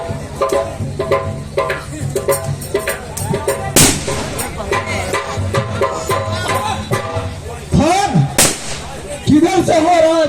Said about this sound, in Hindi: किधर से हो रहा है फायर?